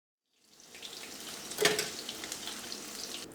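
Fish fillets frying in hot oil for chilli fish, a steady close bubbling sizzle that rises after a quiet start and holds, with a brief sharper crackle partway through.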